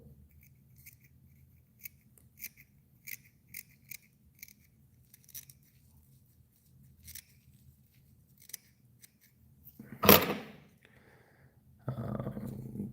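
Scissors snipping fly tying material at a tying bench, a series of sharp, close clips spaced irregularly, then a louder rustle and handling noise toward the end.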